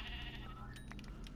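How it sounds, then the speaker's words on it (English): Sheep bleating in the video game Minecraft, a short wavering bleat heard clearly over a low steady background. "Ooh, sheep."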